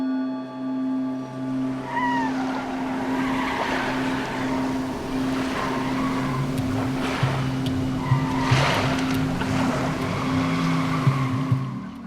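An RTR Mustang drifting through consecutive turns at a drift school, a steady engine drone holding a low tone while tires squeal and hiss in bursts as the car slides, heard from nearby.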